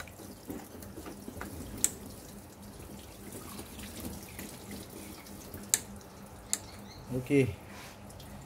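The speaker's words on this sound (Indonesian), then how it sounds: "Dah buka pipe semua, tunggu air dia bleed keluar sikit." Coolant water trickling and dripping out of an opened radiator pipe on a Mercedes W210 during a thermostat replacement: a faint, steady drip and trickle under low background noise, with a brief spoken word near the end.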